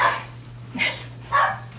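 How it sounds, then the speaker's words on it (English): A dog barks three times in quick succession, fairly close and clear, with a steady low hum running underneath. "The dulcet tones of my dog barking."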